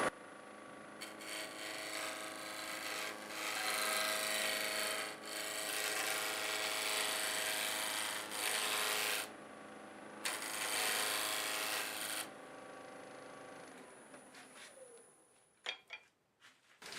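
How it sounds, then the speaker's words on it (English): Steady, broad scraping hiss of a negative rake scraper riding a spinning maple square bowl on a wood lathe, in long sustained passes with brief breaks, ending in a few knocks as the tool lifts away. "I think I'm going to use my negative rake scraper"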